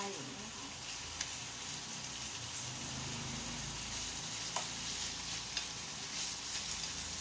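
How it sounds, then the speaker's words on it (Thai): Steady sizzling of pork belly frying in a hot pan while being turned, a continuous crackling hiss with a few sharper pops, no voices. "เราทอดไปเราก็พลิกไปอย่างนี้นะคะ"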